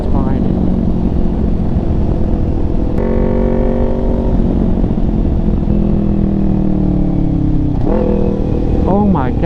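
A 600cc-plus sport motorcycle on worn stock tyres downshifts roughly, its close, loud engine note stepping abruptly in pitch, dropping and then revving back up in quick rising whines.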